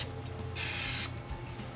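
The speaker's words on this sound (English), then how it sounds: "spray each of the pieces of fish with an oil spray" Oil spray from an aerosol can misted onto pieces of cod for baking, one steady hiss of about half a second, close and fairly loud, with quiet kitchen background before and after.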